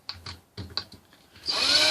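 An old 12-volt cordless drill bores into a wooden knife holder. A few sharp clicks and taps come first, then the drill whirs up loud and close for the final moments.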